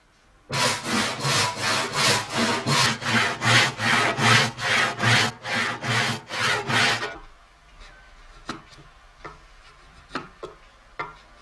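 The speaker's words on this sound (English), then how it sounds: "deftly slips the delicate fret saw blade through one of the islands in the veneer sandwich" A delicate fret saw cutting through a veneer sandwich for marquetry: about fifteen rapid, even rasping strokes close by, then the sawing stops and a few light ticks and taps follow in near quiet.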